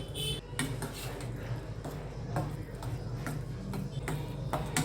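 A spoon stirs curd into cooked rice in a metal vessel, making faint, irregular clinks and scrapes against the pot that repeat steadily under a quiet background.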